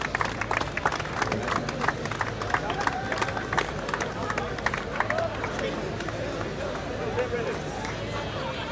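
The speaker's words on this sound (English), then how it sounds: "A big round of applause." A crowd at a junior sevens rugby tournament applauds the winners with sustained clapping under an announcer speaking over a public address, along with scattered cheers and background chatter.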